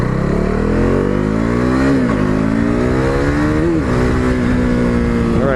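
A KTM RC390 motorcycle accelerating on a test ride, its engine note climbing through the gears in loud, continuous revs with a brief dip at each shift, heard close up from the rider's position.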